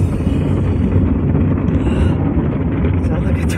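Loud, steady roaring wash of automatic car wash machinery cleaning a truck, like powerful blowers or sprayers, with a broad low rumble filling the whole stretch.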